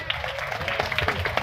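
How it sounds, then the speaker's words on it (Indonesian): Scattered applause for an Islamic school at a Maulid Nabi celebration, brief uneven claps from a crowd of children and adults over room murmur. "tepuk tangan dulu untuk sekolah kita"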